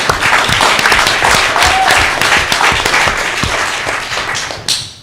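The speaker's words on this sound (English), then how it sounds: "big round of applause" A large crowd at a city council meeting applauds steadily, dense clapping holding at an even level before tapering off near the end.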